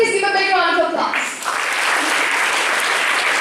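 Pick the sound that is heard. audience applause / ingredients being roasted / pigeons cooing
audience applause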